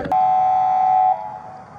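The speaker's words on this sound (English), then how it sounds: "I got you beeping that horn, Jeremy." A single steady electronic-sounding horn beep holds for about a second, then cuts off, leaving quiet background hum.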